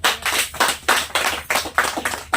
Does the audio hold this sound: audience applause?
yes